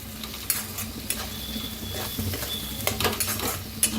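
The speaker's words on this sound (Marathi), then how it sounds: "आता ह्याच्यात टाकायचे हळद, गरम मसाला 1 चमचा भाजून घेऊया." Turmeric and garam masala roasting in a pan for a spicy village-style varanphal, a low sizzle under frequent scraping and clinking of a spoon against the metal.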